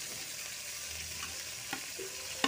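Lemon rice with turmeric and salt being stirred and fried in a pan, a steady close sizzle with a few soft scrapes from the spoon.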